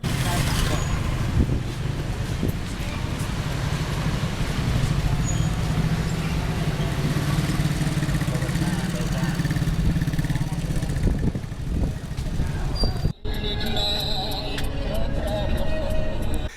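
Dense motorbike and car traffic at the Cambodian border, a steady roar of engines with passing bikes close by, brief quiet then more engine noise, voices faintly mixed in.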